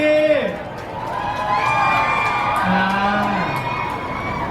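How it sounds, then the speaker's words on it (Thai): A crowd at a launch event for an eco-friendly bottle cheers and applauds loudly, with children's shouts and whoops rising over a steady roar of voices and a talker heard beneath. "ผมปรบมือให้กับภูวินก่อนเลยนะ"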